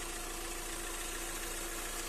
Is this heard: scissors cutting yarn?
no